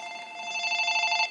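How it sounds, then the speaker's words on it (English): A ringing phone gives off a bright electronic tone that warbles rapidly and grows slightly louder before stopping abruptly, heard alone. "Sorry, my phone is ringing and I don't know who it is."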